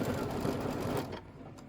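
A Kimberbell embroidery machine stitches a bunny embellishment for a bench pillow, giving a steady, close, fast mechanical whir that runs for about a second before dropping to a softer hum.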